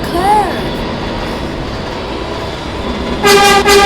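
A subway train in the Potato Transit Authority game rumbles steadily along the track with wheel clatter, a brief tone early on, then a loud horn blast at the end.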